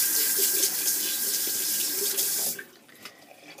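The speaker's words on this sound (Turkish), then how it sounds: "Elimi yıkayayım." A bathroom tap runs steadily while hands are washed, a close, bright hiss of flowing water that stops near the end, leaving a few faint drips and handling sounds.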